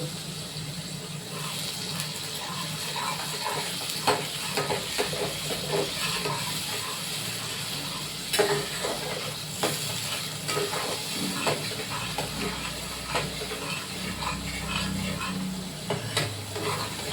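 Water from rinsing a spice bowl poured into a hot cooking pan, giving a continuous close sizzle and bubbling hiss with scattered stirring clinks, heard alone without talk.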